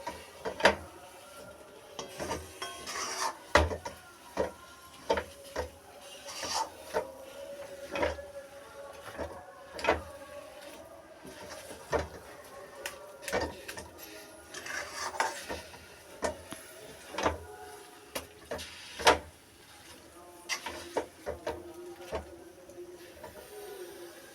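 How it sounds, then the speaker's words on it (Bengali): Mango laddu mixture stirred in a wok over a low flame, a spoon scraping and clinking against the metal in a steady, uneven rhythm of sharp taps close by, with no talking. "ততক্ষণ নাড়তে থাকবো যতক্ষণ কড়াই থেকে উঠে উঠে না আসে"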